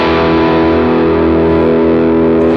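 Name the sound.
electric guitar through distorted lead amp model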